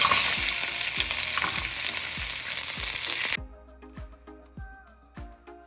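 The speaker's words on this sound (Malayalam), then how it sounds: "അപ്പോൾ നമ്മുടെ എണ്ണ ചൂടായിട്ടുണ്ട്. അതിലേക്ക് നമുക്ക് ഉള്ളി ഇട്ട് കൊടുക്കാം." Onions dropped into hot oil in a pan, a loud dense sizzle with stirring that cuts off abruptly, leaving a few soft spoon scrapes and taps.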